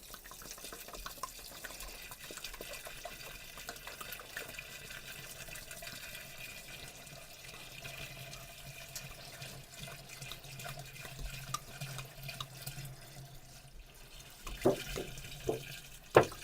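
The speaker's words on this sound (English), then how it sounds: "For water, I'm just using generic distilled water from the grocery store, and that's what I'm going to use to fill the containers." Generic grocery-store distilled water pours into containers for homemade apple cider vinegar, a quiet steady trickle with faint splashes and a few louder clinks toward the end.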